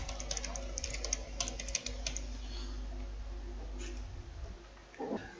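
Quick, light keystrokes on a computer keyboard as a SharePoint farm security password is entered, a short cluster of taps over a steady low hum, then a few scattered clicks.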